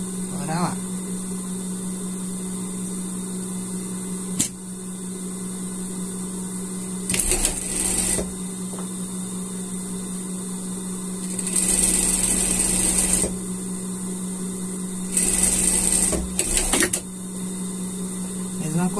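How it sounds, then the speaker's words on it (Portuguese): Sewing machine stitching a seam on unicorn pajamas, running in several short bursts of rapid mechanical whirring separated by pauses, with a steady electrical hum underneath. "Vai passar uma costura até aqui, tá?"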